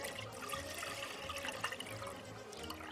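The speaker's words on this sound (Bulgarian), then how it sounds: "Прицеждаме млекото в тенжерка." Fresh sheep's milk is strained into a pot at home for making cheese, with a steady liquid pour and splashing running throughout, moderately close and without talk.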